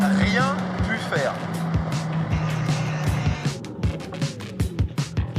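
McLaren 765LT sports car driving at high speed, its engine drone loud and steady with rising and falling pitch, while people talk over it throughout.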